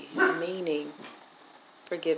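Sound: dog barking

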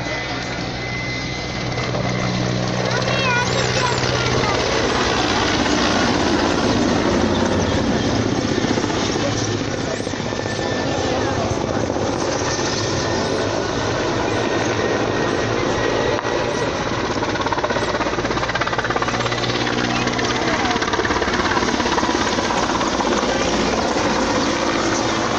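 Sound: Mi-171 helicopter flying at Nitra air show

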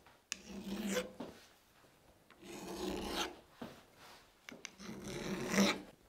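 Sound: filing a chamfer onto a vintage hammer edge

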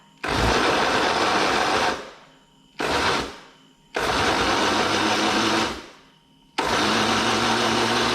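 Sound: blender blending lemongrass, chili, coriander root and pickled garlic

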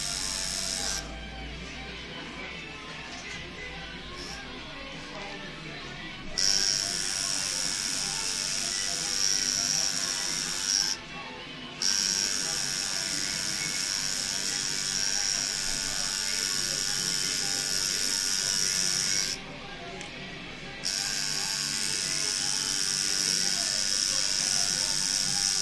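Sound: tattoo machine buzzing while tattooing skin

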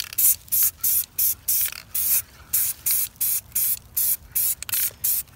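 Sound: spray painting brake hub with thin paint coat

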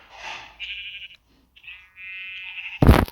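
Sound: sheep bleating in Minecraft video game

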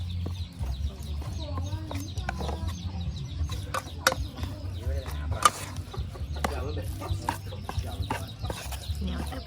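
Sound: chickens clucking

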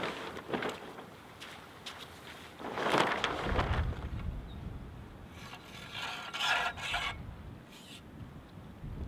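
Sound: windsurf sail being unrolled for rigging

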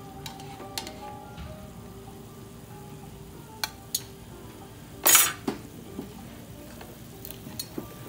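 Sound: pan juices simmering down for chicken francaise

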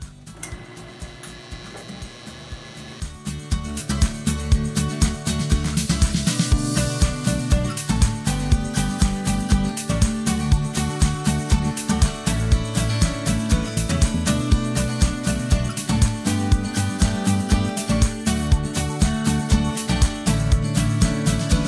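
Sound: hollowing a box elder wood form on a lathe

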